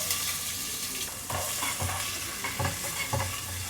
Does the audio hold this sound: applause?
no